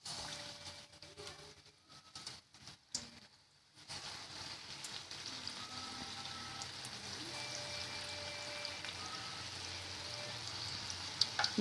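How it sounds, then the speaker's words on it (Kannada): Green peas Mysore bondas deep-fry in hot oil over a low flame, a steady close sizzle and bubbling that thickens after a few seconds of brief splashes and crackles, with no talking. "ಹೀಗೆ ಒಂದೊಂದಾಗಿ ಬೋಂಡ ಬಿಡಬೇಕು. ಸಣ್ಣ ಉರಿಯಲ್ಲಿ ಕರಿಯಬೇಕು."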